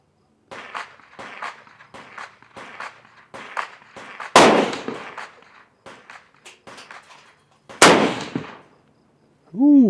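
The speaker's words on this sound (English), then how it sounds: "Shooting off bags today. Dogwood ammunition." Rifle shots from a Uintah Precision UPR10 firing Dogwood 6.5 Creedmoor ammunition off bags outdoors, two loud sharp cracks with ringing decay amid a run of quieter clattering handling noises.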